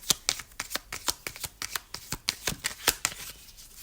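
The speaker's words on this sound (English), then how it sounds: "Okay, just shuffling your cards." Close, crisp riffling and snapping of tarot cards being shuffled, a quick irregular series of papery flicks with no speech.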